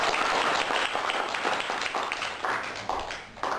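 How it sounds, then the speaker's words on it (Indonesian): A room of listeners at a Buddhist teaching session claps in a dense burst that slowly thins and fades over a few seconds. "Boleh tepuk tangan, boleh kadang-kadang."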